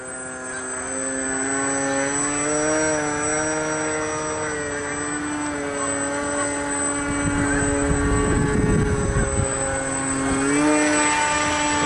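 A foam RC model F-35 jet in flight, with a loud sustained whine whose pitch rises and falls as it passes, a brief rush of air partway through, close and continuous.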